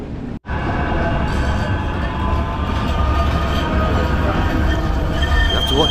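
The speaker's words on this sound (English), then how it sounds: "There's trams running everywhere." Tram passing along a Manchester city street, a loud steady rumble of rolling wheels with faint high squeal, continuous and close throughout.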